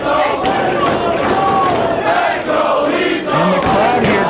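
Wrestling crowd at a Ring of Honor event cheering for Jay Lethal, a loud sustained roar of many voices with rhythmic chanting swells filling the arena, while a commentator talks over it.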